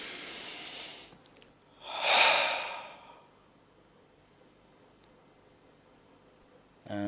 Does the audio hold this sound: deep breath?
yes